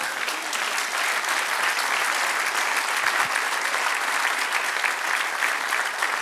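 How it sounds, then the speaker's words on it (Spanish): Steady, dense applause from a church congregation praising God during a sermon, a continuous wash of many hands clapping that stays even throughout without a break. "Dale un aplauso al que reina."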